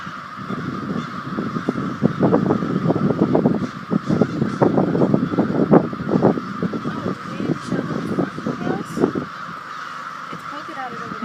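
Many crows cawing around a house in Maine, a dense overlapping chorus of harsh calls, close and loud, continuing for several seconds and thinning toward the end, with people talking over it.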